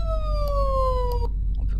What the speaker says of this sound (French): si on active les sirènes, voilà, les lumières